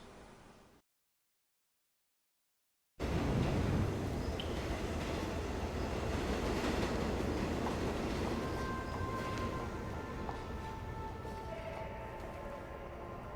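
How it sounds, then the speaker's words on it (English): A metro train runs with a steady, loud rumble and rattle that starts abruptly after a short silence and continues throughout, with faint squealing tones above. "I'm just about to get on the metro."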